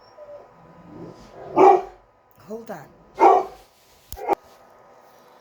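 Several loud, close dogs bark in short separate bursts indoors, with a quick double bark near the end, while someone speaks briefly between them.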